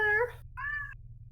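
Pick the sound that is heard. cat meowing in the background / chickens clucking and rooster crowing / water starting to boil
cat meowing in the background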